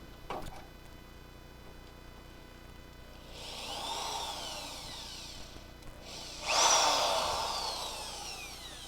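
A power drill bores into the body of a Crew Cab Charger under restoration, whining in two separate bursts that rise in pitch, the second louder and longer, with a sharp knock just before them.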